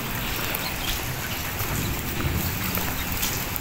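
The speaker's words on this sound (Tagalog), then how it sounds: "Ulan, mabasa yung camera natin" Steady hiss of rain falling in flooded Cavite City, dense and continuous, with a faint rumble of wind underneath and no voices.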